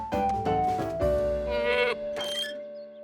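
A cartoon goat gives a series of loud, wavering bleats, several short cries followed by longer drawn-out ones, heard up close without talk in a children's animated episode.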